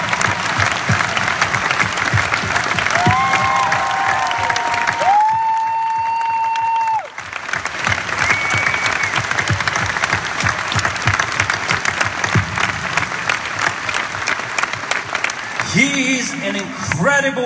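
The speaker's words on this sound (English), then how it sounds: "Please give a huge applause to our orchestra" A concert audience applauds an orchestra, dense sustained clapping with a voice speaking over it and a few sung or whistled tones rising through the crowd noise.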